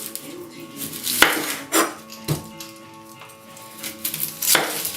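Knife cutting up a white onion for a pot roast: a few sharp, separate chops against a board at irregular intervals, close and fairly clear over a quiet kitchen background.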